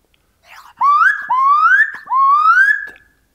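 A Native American flute plays three sliding, breathy notes, each rising in pitch and held briefly, clear and close with no other sounds.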